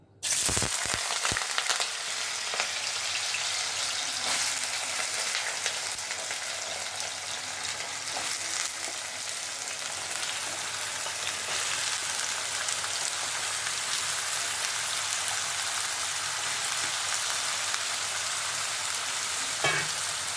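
Potato pieces frying in hot oil in a heated pan, giving a steady, dense sizzle and crackle that runs unbroken throughout, close and fairly loud, with a few brief clatters near the start and no talking.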